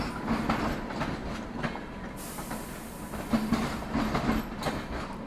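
Inside the Howrah Rajdhani Express as it pulls away in heavy fog, steady rumble and rhythmic clickety-clack of wheels over rail joints, with occasional louder clacks and a brief hiss of passing noise.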